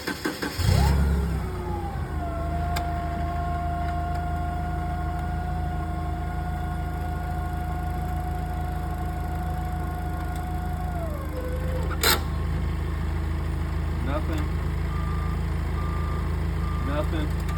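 A forklift engine starts and then idles and drives at a steady, even hum, close and loud, while its reversing alarm sends out faint, regular beeps. A brief clank sounds near the end.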